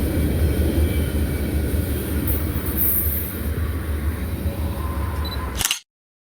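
Kansas City Southern freight train with railbox boxcars rolling past, a loud steady rumble of wheels on rail with faint squeal, continuous and close, ending in an abrupt cut to silence.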